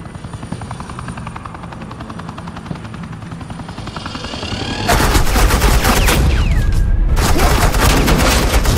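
Heavy automatic gunfire erupts in the Batman: The Enemy Within video game as suppressing fire opens up, loud dense bursts crashing in after a steady helicopter rotor drone, with a brief pause before the firing resumes.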